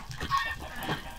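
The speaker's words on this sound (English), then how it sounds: "But the chickens." Chickens cluck in a nuclear-wasteland survival video game, a few short clucking calls close by and fairly loud for just over a second, with no talk over them.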